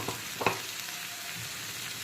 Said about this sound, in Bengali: এখন আমি কড়াইতে দিয়ে দেব ভাজা মশলার মিহি পেস্ট।